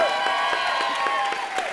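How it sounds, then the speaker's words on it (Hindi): A studio audience on a Holi-special comedy show claps and cheers for Sohail in a brief, dense burst of applause with scattered whoops, filling the whole moment. "सोहेल भाई के लिए जोरदार तालियां।"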